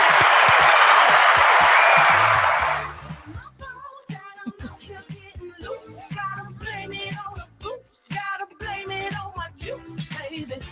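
A loud burst of applause in a studio lasts about three seconds, then gives way to people talking and some background music.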